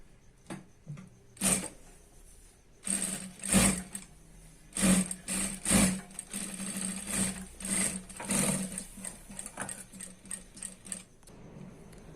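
A sewing machine stitches a 1-inch seam on a dhoti salwar in short, irregular bursts of rapid mechanical clatter, close and fairly loud, separated by brief pauses and quieter handling.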